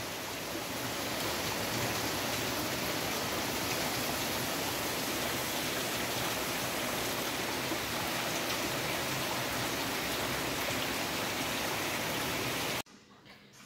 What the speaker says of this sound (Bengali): তো এখন আবার শুরু হয়ে গেছে খুব জোরে বৃষ্টি